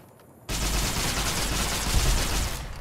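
Laser rifle in Fallout New Vegas firing in a sustained rapid burst, loud and dense, starting abruptly and continuing steadily for a couple of seconds.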